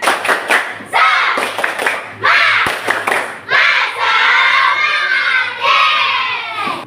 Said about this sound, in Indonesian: untuk menambah semangat kita tepuk semangat dulu ya